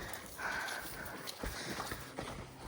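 A horse's hooves clip-clop on the ground while it performs a high-stepping Spanish walk, giving irregular close thuds. A rider's voice speaks over the steps.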